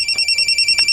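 A telephone rings loudly and close, a bright trilling electronic bell pulsing rapidly with no voices over it.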